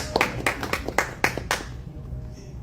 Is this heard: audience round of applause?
yes